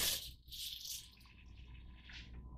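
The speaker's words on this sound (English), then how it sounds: "I will go ahead and rinse it off." Water running over a mirror to rinse off etching gel, a faint close splash and trickle that flows steadily with brief gushes.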